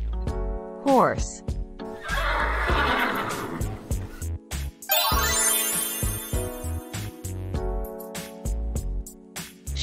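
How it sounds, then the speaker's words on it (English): A horse gives a loud, close whinny with a descending neigh, then snorts and breathes heavily, with a second rising whinny midway and some faint hoof or farm noise around it. "Horse."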